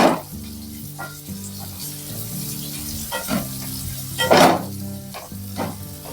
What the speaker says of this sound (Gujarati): હવે આપણે કાંદાને તળવા દઈશું।